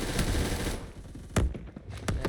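Several sharp gunshots from a starter gun in Phantom Forces, a dense burst of reports at first followed by two or three separate loud cracks with short ringing tails.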